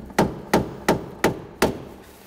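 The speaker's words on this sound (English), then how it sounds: "you can use like a mallet or something like that" Five sharp, evenly spaced mallet blows ring out on a car's steering rag joint, each a hard knock with a brief decay, close and fairly loud.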